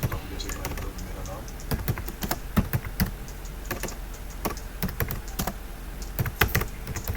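Keys clatter on a computer keyboard while text is typed in InPage Urdu software, with irregular close clicks and small bursts over a soft room hum, and someone speaking quietly over the typing.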